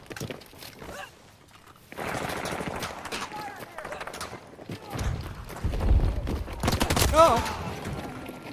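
Bursts of video game gunfire break out during an eight-versus-eight online shootout, with rapid volleys and scattered shots mixed under players' excited talk.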